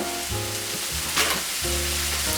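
Bacon slices fry in a hot pan with a continuous close sizzle, under a low background hum and a brief louder hiss midway, no talk.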